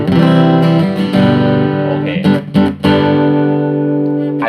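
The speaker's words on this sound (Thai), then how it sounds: "คือเสียงที่ผมเล่นผ่านตู้แอมนะครับ" An electric guitar rings out through an amplifier, sustained chords with a full, slightly gritty tone and a few quick strums midway.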